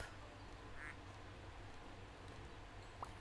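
Farm ducks in the video game Farming & Supermarket Simulator quack a few times over a steady background hum, one short call near the start and a pair of louder quacks at the end, with no speech.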